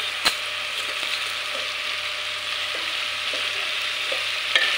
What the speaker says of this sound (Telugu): ఉప్పు వేసుకుని బాగా మిక్స్ చేసుకోవాలి.